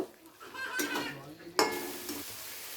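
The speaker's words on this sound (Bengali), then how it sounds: "আলুগুলো দেওয়ার পরে মশলার সাথে খুব ভালো করে আরেকবার কষিয়ে নেব।" Potatoes are stirred into a thick spice masala in a pan for a spicy egg curry, with two bursts of spatula scraping and clatter over a low, soft sizzle.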